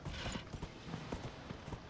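Horse hooves clatter in a rapid, uneven gallop in the video game Dragon Age: Inquisition, with creaky mechanical tones mixed in, heard up close throughout the short stretch.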